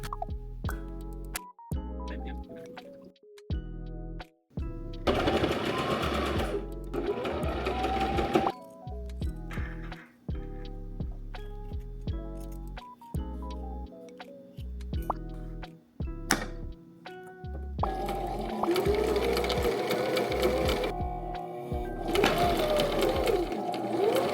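A sewing machine stitches seams while clothes are being altered, running in repeated stop-start bursts of rapid mechanical whirring, close and fairly loud, with short pauses between runs.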